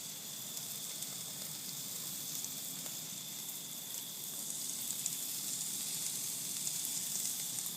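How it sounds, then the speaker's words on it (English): Steak sizzles on an outdoor grill in late October, a steady soft hiss and crackle that holds evenly throughout, faint and with no voices over it. "at the moment I'm out here grilling in the end of October"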